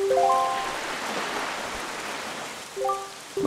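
Rain falling steadily on Eerie Isle in The Legend of Zelda: The Wind Waker HD, a continuous wash of rain with short tonal game chimes at the start and end.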